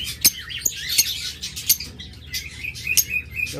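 Pet budgerigars, lovebirds, cockatiels or diamond doves kept for sale chirp and tweet in quick, scattered bursts nearby, sharp high calls overlapping against faint background rustle.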